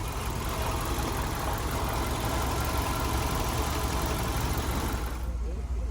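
A car idles at a Kyzylorda car market, its engine rumbling loud and steady up close before dropping away abruptly near the end.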